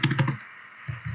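A short run of close keystrokes on a computer keyboard, several quick clicks, then a pause and two or three more taps.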